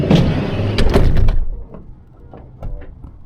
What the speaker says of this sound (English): So when you shut your sliding door,